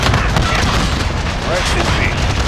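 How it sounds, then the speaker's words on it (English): Heavy booming blasts and gunfire from a cruise missile strike in Call of Duty: Modern Warfare fill the scene as dense, continuous battle noise with no pauses. "Enemy cruise missile."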